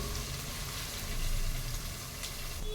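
Ginger garlic paste fries in a pan for an eggplant masala curry, giving a steady, soft sizzling hiss that runs unbroken throughout with no talking.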